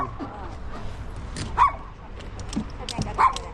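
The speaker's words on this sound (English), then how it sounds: "Oh, there's a doggy." A dog encountered outdoors while bike touring in Korea gives two short yips or barks, spaced a couple of seconds apart, under a busy background of street noise, distant music and people talking.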